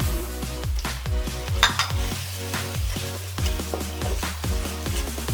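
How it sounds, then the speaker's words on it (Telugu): A spoon stirs tomato pieces in a pan for aloo chicken curry, scraping in steady repeated strokes over a continuous close sizzle. "మగ్గిపోయే వరకు మనం ఇలా తిప్పుకుంటూ కలుపుకుందాం"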